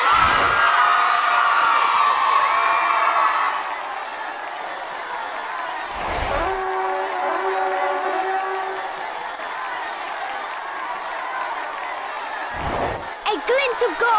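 Crowd cheering during a Quidditch match in the Harry Potter PS1 game, a broad roar that swells and fades in bursts with a few thuds, heard under an excited commentator's voice.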